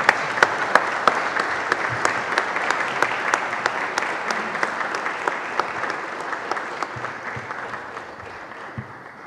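At the close of a lecture, an audience applauds the speaker with steady, moderately distant clapping, individual sharp claps standing out above the crowd's wash before it gradually fades.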